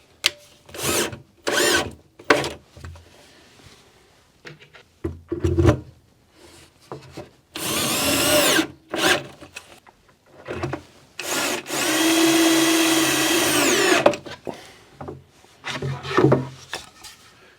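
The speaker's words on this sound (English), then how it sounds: "I'll put my pilaster in and run the screw in" A power drill drives a screw into a 1-inch-thick wooden pilaster held in a small home jig. Close handling knocks and rubs come first, then short whirring bursts of the drill and a longer sustained run as the screw seats.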